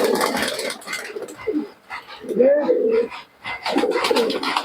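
Teddy pigeons coo in soft, throaty bursts, a few rolling calls close by with breaks between them, while a person talks over and around them.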